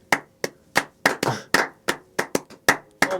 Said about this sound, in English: I would clap and I'd be like this.